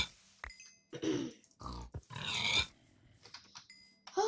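Pigs in Minecraft grunt and oink in a handful of short bursts, clear and close, separated by brief gaps.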